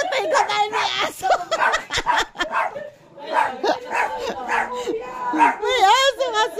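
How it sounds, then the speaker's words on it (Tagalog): A dog barks and whimpers in short yips amid animated Filipino talk, the yelps and whines mixed closely with several voices, fairly near and loud. "May aso kasi."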